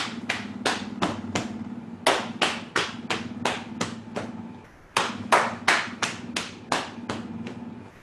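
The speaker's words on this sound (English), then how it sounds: "with a cupped hand, do a little bit of clapping" Rhythmic slapping of a cupped hand on a leg during a tai chi exercise, a steady series of sharp, hollow pats, close and alone over a low hum, with a short pause midway.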